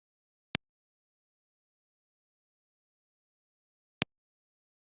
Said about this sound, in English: This is the sound of an impulse response.